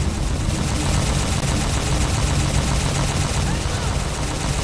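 Dense, continuous gunfire from the game Halo, loud and sustained without a break, with rapid overlapping shots forming a steady roar, no talk heard over it.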